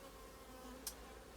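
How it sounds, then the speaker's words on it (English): Honey bees buzzing at a hive while cleaning up a frame, a faint continuous hum close by with a single brief click partway through. "leave this frame on for the bees to continue cleaning up as they are now"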